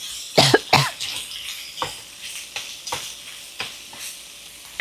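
Sliced pork belly hits a hot pan with lemongrass and chili, a loud near burst of sizzling and clatter followed by repeated stirring scrapes and hissing as it fries.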